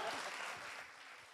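A crowd claps in steady, dense applause, a continuous wash of hand claps at moderate loudness throughout.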